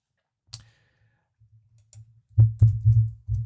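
Keys clack on a computer keyboard while typing case names into a search field, a few scattered taps followed by a quicker burst of close, crisp clicks.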